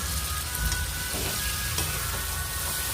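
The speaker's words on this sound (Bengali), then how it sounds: "এবার দেব কুচানো টমেটো" A steady, dense sizzle of chopped tomatoes hitting hot oil spiced with chilli, turmeric, cumin and coriander for a chicken curry. The frying hiss runs close and unbroken throughout, with no voices.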